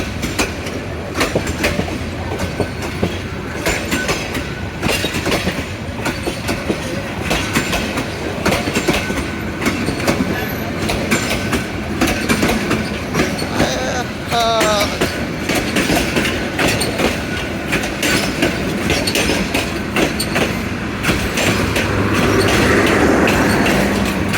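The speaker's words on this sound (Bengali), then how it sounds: "বিমানবন্দর রেল স্টেশনের ট্রেন চলে আসছে" The Lalmoni Express train rolls into Biman Bandar (Airport) railway station with rhythmic clickety-clack and a brief wheel squeal, loud and close, building slightly at the end.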